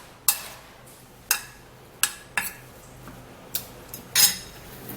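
Spoon clinking and scraping against a bowl while potato juice is mixed, several sharp taps spaced about a second apart over quiet background, close and distinct.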